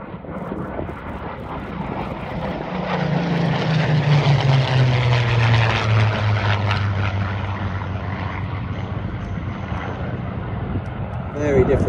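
Piston-engined FR-14 fighter reconnaissance warbirds take off at an airshow, a loud droning engine roar that swells, passes with a falling pitch and fades, with a commentator talking over it.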